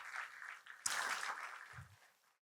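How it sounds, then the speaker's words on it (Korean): Congregation applause at a Friday church service breaks out suddenly and holds for about a second and a half, then fades to silence. It sounds faint and somewhat distant. "다시 한번 격려의 박수 한번 보내겠습니다"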